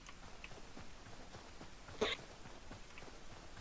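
A single short sneeze sounds at a distance over a low background hum during Hytale gameplay, brief and moderately loud against otherwise quiet ambience.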